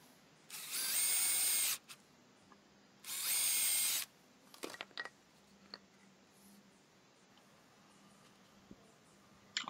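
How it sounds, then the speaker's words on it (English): Two sustained bursts of a power drill with a large bit countersinking wood, each about a second long, followed by scattered clicks and handling noises in a quiet room. "And I'm just using a bigger drill bit here to countersink."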